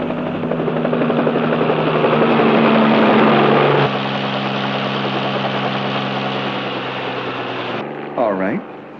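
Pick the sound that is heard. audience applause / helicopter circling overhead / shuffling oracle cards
helicopter circling overhead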